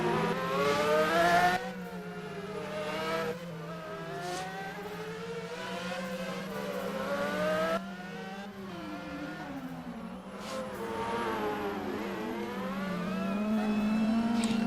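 A time attack race car at Sydney Motorsport Park screams through a lap attempt, engine notes rising and falling sharply with repeated gear changes and brief backing off, loud and close, no speech.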